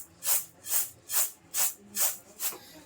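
Dry lentils shaken in a pan while roasting, six rhythmic rattling swishes at an even pace, close and fairly quiet, with no talk.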